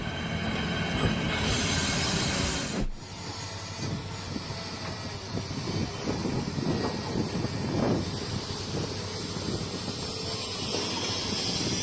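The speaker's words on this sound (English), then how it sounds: "Here's how the Golden Pass Express seamlessly changes track gauge from meter gauge to standard gauge using Stadler panoramic cars with adjustable bogie technology." Stadler panoramic cars of the Golden Pass Express running on adjustable gauge-changing bogies, moving from meter gauge to standard gauge: a steady close rumble of rolling wheels with rhythmic clicks and faint squeals, broken by a sharp jolt near the start.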